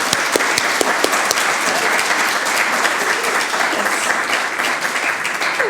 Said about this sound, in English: So we shall give them a clap.